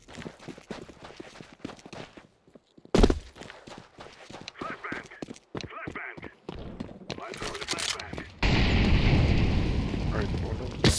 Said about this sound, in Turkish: Bomba kim tulladı yine?